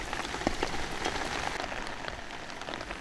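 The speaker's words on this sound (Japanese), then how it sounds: "雨。" Rain falling as Typhoon 19 approaches, a steady dense patter of drops on surfaces with occasional sharper nearby splashes, continuous and moderately loud.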